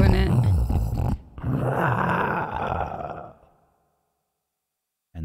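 A human voice imitates a deep, rasping growl in two drawn-out bursts, loud and close, fading away before a brief noise at the end; someone speaks at the start.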